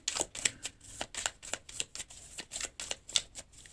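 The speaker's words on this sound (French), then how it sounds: "J'ai mis mes cartes à l'envers." Tarot-style cards are shuffled and handled for a card reading. A quick run of crisp riffling and flicking bursts comes in a steady rhythm, close and fairly quiet, with no talking.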